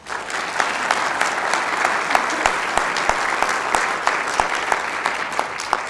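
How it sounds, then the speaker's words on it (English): Audience applause at an evening community presentation on the state of local kids, steady dense clapping from a sizeable crowd sustained throughout with a few sharper claps standing out. "How about a round of applause?"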